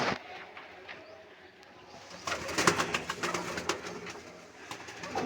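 Pigeons in a loft coo softly and repeatedly at close range, with some rustling and wing movement around them and no talk over the calls.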